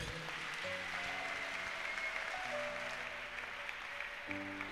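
A church congregation claps in a long, even wash of applause that sounds quiet and somewhat distant, with a sustained organ or keyboard chord underneath.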